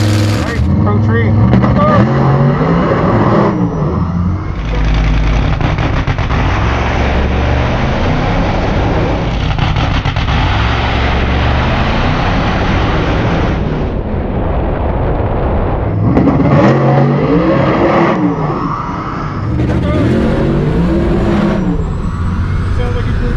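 A COPO Camaro races a Tesla Plaid down a quarter-mile drag strip, a loud, continuous engine roar with surging revs and rasping tire spin at launch, rising and falling over twenty seconds.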